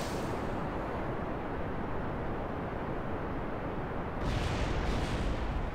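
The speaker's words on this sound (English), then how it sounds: "This is a rocket. Let's try launching it at full throttle." A rocket launching at full throttle in Kerbal Space Program, a steady loud roaring rumble that holds throughout and swells slightly louder near the end, with no voices.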